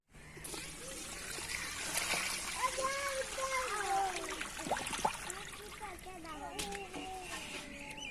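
Water poured and splashing while dishes are washed in a village home, a continuous trickle and splatter close by, with people talking throughout.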